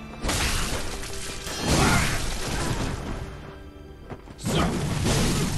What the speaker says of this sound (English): Oh, that's a double attack, okay.